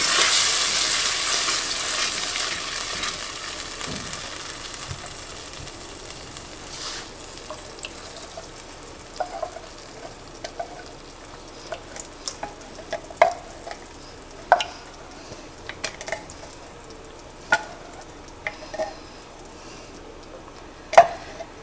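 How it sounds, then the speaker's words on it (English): Canned tomatoes stirred into pizza sauce in a pan on the stove, a soft simmering hiss under scattered scrapes and taps of the spoon against the pan, close and moderately loud. "just stir that in"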